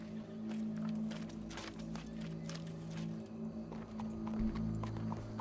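Horse hooves clip-clop in the Western video game Red Dead Redemption 2, a quiet, steady run of hoofbeats over a low sustained musical drone.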